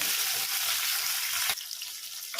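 Green chillies and curry leaves fry in a pan with a loud, close hiss that cuts off abruptly partway through, leaving a fainter sizzle afterward.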